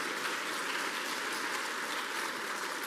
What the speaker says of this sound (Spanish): Aplauda al Rey de Gloria.